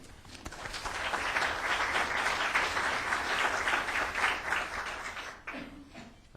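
An audience applauds a dean stepping up at a genocide-convention anniversary event, a steady wash of many hands clapping that builds quickly, holds loud and full, then thins out near the end.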